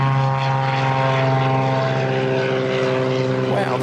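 Aircraft at Christchurch Airport, New Zealand, taking off, a loud, steady engine roar with a strong tonal drone throughout, close and dominant, with a person's voice faintly present.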